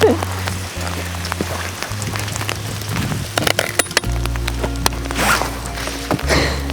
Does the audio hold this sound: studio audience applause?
no